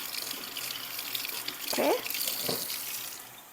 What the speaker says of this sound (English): So long as you can hold, you can fill the water without burning.